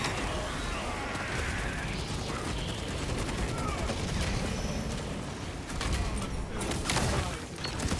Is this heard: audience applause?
no